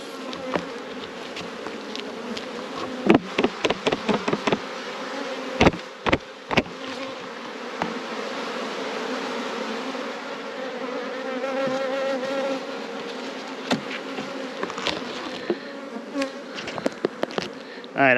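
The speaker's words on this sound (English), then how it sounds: "Look at the size of that British black bee." British black bees buzz loudly around hive frames, a continuous close drone punctuated by sharp knocks and clicks of frames being handled.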